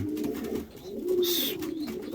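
Racing pigeons coo steadily in a loft, a low continuous burbling close by with faint higher chirps over it.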